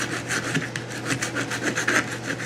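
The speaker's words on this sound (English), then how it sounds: "I'm just going to go through here and file this up, maybe rasp it up and use it." A file and rasp work along the rough edges of a handmade vinyl knife sheath, giving rapid, rhythmic scraping strokes that are close and steady, with no talking.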